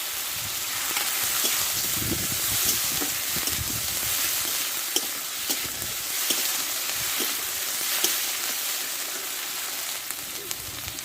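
Onion paste, garlic paste and tomato frying in hot oil for a fish-head and taro-stem curry, giving a continuous close sizzle with occasional sharp pops and stirring scrapes, no talking.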